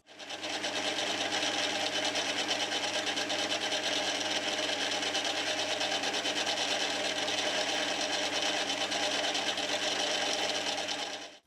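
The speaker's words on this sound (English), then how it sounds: "so now I can get it spot drilled and drilled through the part" Lathe spot drilling and then drilling through a metal vise stop part, a steady, loud, continuous whirring grind with an even high-pitched hiss held throughout, alone with no voices.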